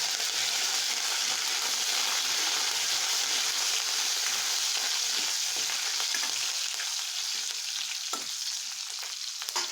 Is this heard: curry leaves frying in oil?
yes